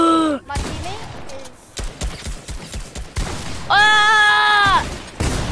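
Gunfire in the Fortnite zone wars video game, heard as a string of sharp shots around loud game noises and a sustained tonal effect, with people talking over it.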